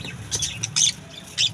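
A small chick kept in a clay pot gives a few short, sharp squawking calls, close and clear, spaced irregularly over a quiet background.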